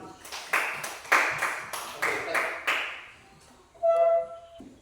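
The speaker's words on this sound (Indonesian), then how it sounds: "Tepuk tangan buat temanmu" Students in a classroom clap in a handful of distinct, bursty rounds, each a quick flurry that fades before the next, followed by a brief ringing tone near the end.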